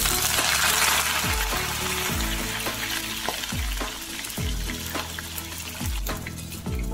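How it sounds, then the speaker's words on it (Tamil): Garlic, curry leaves and green chili hitting hot oil with popped mustard seeds for an anchovy fish curry, a continuous bright sizzle with occasional spatters, heard under background music and no voices. "கடுகு நல்லா பொரிஞ்சதும் பூண்டு கருவேப்பிலை பச்சை மிளகாய் எல்லாத்தையும் சேர்த்துக்கலாம்."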